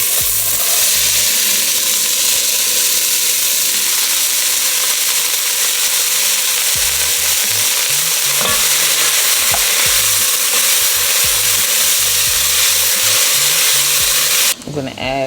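A mirepoix of celery, carrot and onion cooks in a pot, giving a steady, close sizzle with occasional stirring scrapes throughout. A brief clatter comes near the end.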